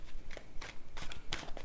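A deck of tarot cards is shuffled up close, giving a busy run of soft riffling and slapping bursts across under two seconds.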